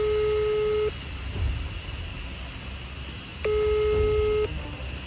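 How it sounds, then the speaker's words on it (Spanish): A phone being dialed in a call that keeps going unanswered: two long steady ringback-style tones separated by a pause, heard over a constant background hiss. "Voy a llamar otra vez a ver."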